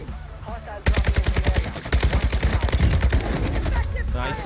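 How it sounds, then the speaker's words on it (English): Rapid automatic gunfire aimed at the player in Warzone 2 on Ashika Island: loud, dense bursts of shots that rattle on steadily for about three seconds after a brief quieter lead-in, with a voice briefly audible beneath. "Stop shooting me!"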